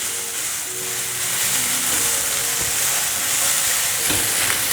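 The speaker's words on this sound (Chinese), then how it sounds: "快速的炒。" Carrots and beans stir-fried quickly in a hot wok, a steady loud broadband sizzle with scraping stir strokes running throughout, no voices.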